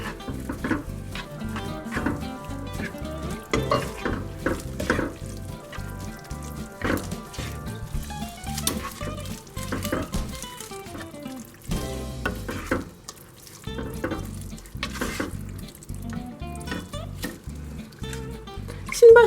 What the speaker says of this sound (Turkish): Şimdi bir karıştırdığımızda iç harcımız hazır olacak.